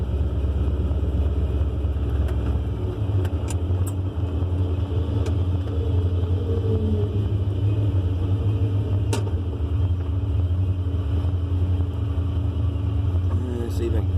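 Old truck engine rumbling steadily while driving, a low continuous drone heard from inside the cab, with someone talking over it.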